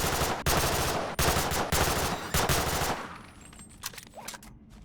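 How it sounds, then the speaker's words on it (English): An M1A1 Thompson submachine gun in the BONELAB game fires several loud, rapid bursts in quick succession, then a few fainter sharp shots trail off as the firing stops. "The M1A1 Thompson. That classic World War II submachine gun?"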